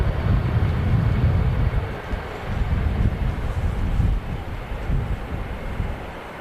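An airliner arriving at Manchester Airport, a broad low rumbling roar heard from a distance, mixed with wind buffeting the microphone and slowly easing over several seconds.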